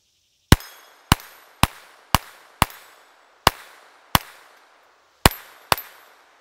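A homemade toy pistol fires nine sharp, loud snapping shots at an irregular pace, each crack close and clean with a short ringing tail, separated by near silence.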